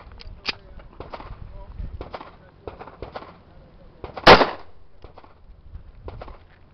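A single sharp gunshot from a Tokarev 7.62x25 pistol fired at a ballistic plate two feet away cracks loudly near the middle, set among quieter clicks and handling noise.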